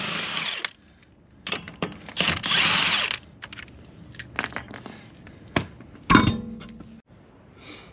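A power tool zips off the lug nuts of a Honda wheel in short bursts, several loud whirring runs separated by pauses and clanks, close by, with a sharp metallic rattle near the end.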